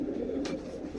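Pigeons of mixed colours, including red, blue bar and yellow pairs, coo softly in a loft. The low cooing is steady, with a brief brighter flutter near the middle.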